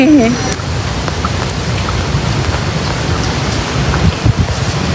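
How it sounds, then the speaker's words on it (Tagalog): Steady heavy rain hisses and patters on surfaces outdoors in Iloilo City during the Dinagyang festival, a dense continuous wash with a faint low rumble and a few scattered taps near the end. "bisan maulan ang panahon dire"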